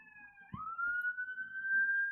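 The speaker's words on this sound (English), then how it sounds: "These sirens are really loud and distracting." Two-tone emergency sirens in a jungle survival game wail steadily and loudly, one tone sliding down into a sustained high pitch after a brief thump, continuing without talk.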